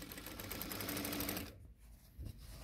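A sewing machine fitted with a hemming presser foot runs in a steady rapid whir of stitching, then stops abruptly and leaves a quiet room with faint handling sounds.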